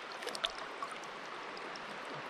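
River water flowing at a fishing pool, a soft steady rush with faint trickles and a few small splashes near the start, quiet and without voices.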